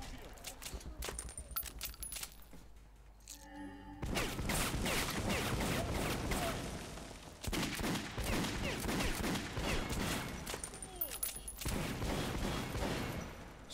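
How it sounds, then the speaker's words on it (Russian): Sustained automatic gunfire in Metro: Last Light, loud rattling bursts that run almost continuously after a quieter start with a few scattered shots, with brief pauses between volleys. "чего они стреляют?"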